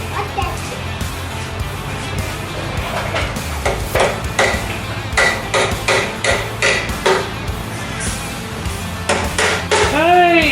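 Repeated sharp hammer blows ring out in an irregular rhythm, close and loud, with voices talking in the background between strikes.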